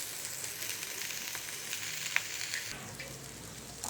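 Grated coconut, sesame and spices roast in a pan over full gas with a steady, soft sizzle and crackle. One small clink sounds partway through, and no one speaks.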